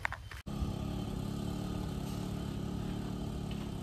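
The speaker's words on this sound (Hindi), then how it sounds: "बाइक स्टार्ट करके निकलते हैं घर" A motorcycle engine catches after a brief start and settles into a steady, close idle, with no talking, on a hot day in a village in Arunachal.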